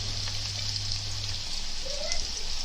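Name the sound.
onions sizzling as they are added to hot oil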